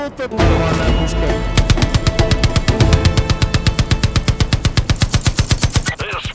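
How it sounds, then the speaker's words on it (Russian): Machine gun fire in Far Cry 5 comes as a loud, rapid stream of evenly spaced shots that goes on for several seconds, close and continuous, with a short burst of other game noise at the start. "Вот это нормальная пушка."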